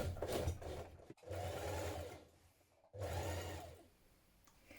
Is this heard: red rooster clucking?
no